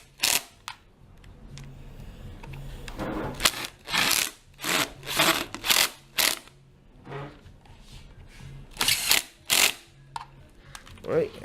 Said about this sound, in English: placing back on the fenders and screwing the fenders in.